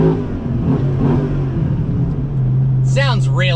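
The V10 engine of a Dodge Ram SRT-10 pickup truck rumbles steadily at idle and revs briefly, with someone talking over it near the end.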